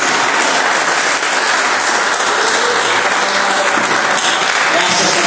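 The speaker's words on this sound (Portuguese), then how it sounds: "Desocupe as tuas mãos e dê uma salva de palmas para Jesus" A church congregation applauding, a dense, loud, continuous roar of many hands clapping from start to finish, with no break.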